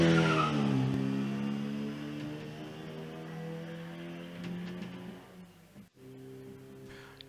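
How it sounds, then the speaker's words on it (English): An MG Midget 1300 racing car climbs Shelsley Walsh hill at a hill climb, its engine wailing loudly close by with squealing tyres, the pitch sliding down as it passes and the sound fading away as it continues up the hill. "Philip Smith coming underneath the camera position with his MG Midget 1300"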